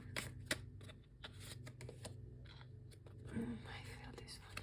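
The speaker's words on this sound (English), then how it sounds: "Let's draw some tarot cards as well." Tarot cards riffle and slap in a close shuffle, papery flutters and taps, with soft whispered speech underneath.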